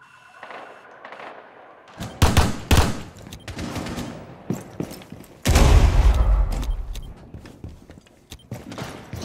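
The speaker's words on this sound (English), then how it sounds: "Why are these guys shooting each other?" Gunfire in the Rainbow Six video game: a few sharp shots at first, then a long, loud stretch of rapid, heavy firing, with no talking.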